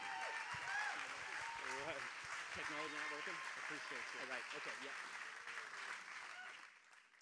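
Audience applause at a political event in Snohomish, Washington, a dense sustained clapping that swells then fades out at the end, with a voice talking over it throughout.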